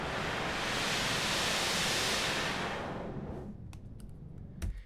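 Loud broadband noise swept through a low-pass filter from 50 to 5,000 Hz in SuperCollider rushes steadily for about three seconds, then thins out and drops off into quieter background with a few faint clicks.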